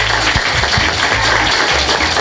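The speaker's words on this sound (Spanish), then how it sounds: "¿Verdad que vamos a darle otro aplauso porque es alguien especial?" An audience applauds at a Salvadoran flag-raising ceremony in West New York, New Jersey, with dense, steady clapping that fills the whole short stretch at close range.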